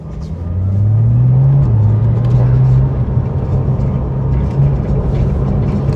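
A GT2 RS sports car engine gives a deep, continuous rumble that swells and holds steady, with someone talking over it.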